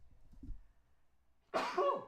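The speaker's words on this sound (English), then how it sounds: "I'm going to sneeze" A single sharp, loud sneeze bursts out near the end after faint low murmuring, close to the microphone.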